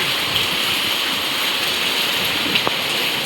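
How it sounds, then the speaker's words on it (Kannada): Heavy rain pours down steadily in a dense, constant hiss close by, with no break in the downpour and no voices. "ಮಳೆ ನೋಡಿ ತುಂಬ ಜೋರಾಗಿ ಮಳೆ ಬರ್ತಾ ಇದೆ"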